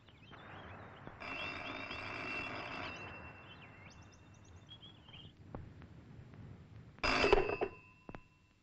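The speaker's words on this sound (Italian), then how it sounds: "La quotidiana telefonata di Gabriella." An old-fashioned telephone bell rings indoors in two separate bursts: a longer ring of a couple of seconds, a pause with faint background noise, then a second short, louder ring, with no one talking.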